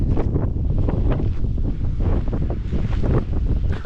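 Ocean waves and surf churning with thick foam at the shore, a steady loud wash of breaking water buffeted by strong wind noise across the microphone, continuous with no talking.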